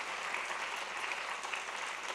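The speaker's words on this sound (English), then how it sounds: "Yes, I think we should give a round of applause." Audience applause at a climate adaptation forum, a faint, even wash of many hands clapping, steady for about two seconds and heard from a distance.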